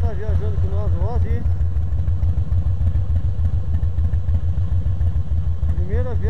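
Steady Harley-Davidson Fat Boy engine drone with wind rush while riding, voices talking over the constant rumble.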